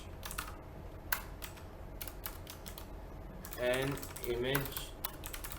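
Computer keyboard typing in a series of quick clicks and bursts, fairly close, with someone speaking briefly partway through.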